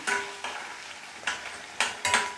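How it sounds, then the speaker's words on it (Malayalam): Green chilli, ginger and garlic stirred in a pan for a bitter gourd pickle, with four or five distinct scraping strokes of a spoon against the pan over a faint sizzle, close and without talk. "കുറച്ച് ഇഞ്ചി കുറച്ച് വെളുത്തുള്ളി ഇത് മൂന്നും കൂടെ ചേർത്ത് കൊടുക്കാം അതൊന്ന് നല്ലപോലെ മിക്സ് ചെയ്തെടുക്കാം"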